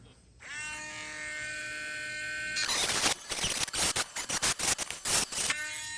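A small handheld rotary tool cleans up carved lines in wood, first a steady whirring hum, then louder bursts of grinding as the bit touches the workpiece in short repeated strokes, ending back in a plain whir.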